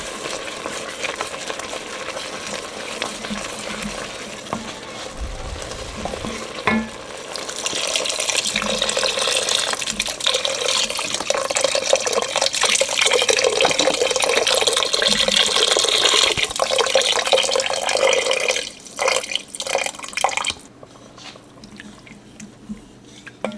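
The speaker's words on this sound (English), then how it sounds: "Now we're going to pour in some of our beef broth. We'll just start off with a little bit so I can deglaze." Beef broth poured into a hot pan and the bottom scraped to deglaze, producing a loud, sustained hiss and bubbling sizzle with scraping that fades off near the end.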